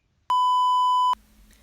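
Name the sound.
voicemail beep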